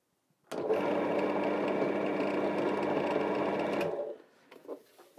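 A Silverline 350W drill press motor whirs at a steady, close, loud pitch for about three and a half seconds, then winds down and stops, leaving a few faint knocks.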